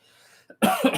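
A single harsh cough bursts out loud and close after a faint, quiet lead-in, rasping briefly before fading.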